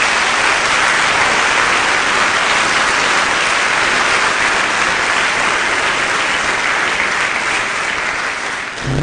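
Sustained, dense applause from a church congregation applauding Jesus during a sermon, loud and steady throughout with no voices over it.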